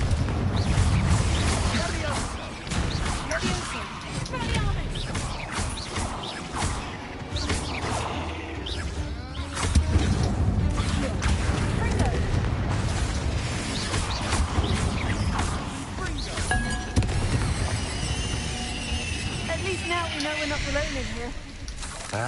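A Confringo fire spell bursts in Hogwarts Legacy inside a spider-filled tomb, a loud explosive crackle and hissing roar that churns on with debris-like crashes and a character's voice over it.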